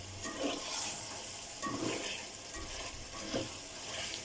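Chicken pieces are stirred into a spiced, well-fried masala for chicken korma, giving a steady moderate sizzle with rhythmic scraping strokes of a spoon against the pot, close and without talk.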